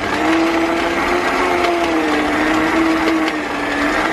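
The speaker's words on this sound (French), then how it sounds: "on est reparti pour mélanger, pour dire d'avoir une pâte avec un mélange homogène" An electric stand mixer kneads brioche dough with a loud, steady motor whine and a slight wavering pitch, accompanied by faint knocking of the dough and bowl, no voices.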